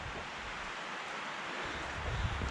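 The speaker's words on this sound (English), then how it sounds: "it's quite windy. Don't know if you can hear it in the background" Steady wind blowing above trees at an outdoor camp, a continuous broadband rush with gentle swells and a slightly stronger gust near the end, no voices present.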